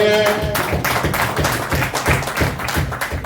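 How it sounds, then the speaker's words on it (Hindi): Crowd applause greeting a guest arriving at a press club, dense continuous clapping from many hands, loud and close throughout. "उनको भरपूर तालियों में वेलकम करते हैं।"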